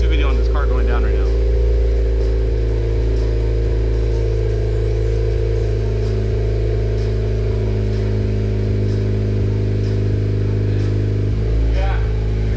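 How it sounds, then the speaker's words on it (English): An 11th-generation Honda Civic Si with an aftermarket exhaust, cold starting with a loud, steady engine drone and a revving burst at the beginning and again near the end, close by under people talking. "Rev it up. Quick little cold start."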